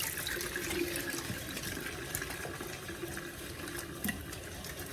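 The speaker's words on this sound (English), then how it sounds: "Let me wash my hands." Tap water runs steadily into a sink as a night-shift nurse washes her hands, a continuous broadband splashing with brief small knocks and no talking.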